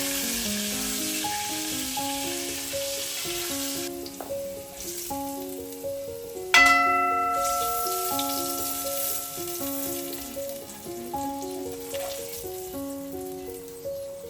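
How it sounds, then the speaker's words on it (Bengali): Potatoes frying in oil with a pinch of turmeric and salt for a home-style aloo duck curry, a soft continuous sizzle beneath a prominent stepping musical melody, with a brief bright clatter midway. "আলুর মধ্যে 1 পিঞ্চ মতো হলুদ আর লবণ দিয়ে হালকা করে জাস্ট এটা ফ্রাই করে নিচ্ছি।"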